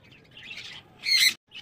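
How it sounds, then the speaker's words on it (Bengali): An adult budgerigar gives a few short, bright chirps close by, ending in one sharper, louder call. "পুরো অ্যাডাল্ট পাখি বদ্রি"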